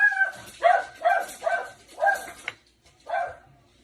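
A dog named Blackie barks at a package delivery at the door, five sharp yapping barks in quick succession, close and loud, with brief whimpery edges.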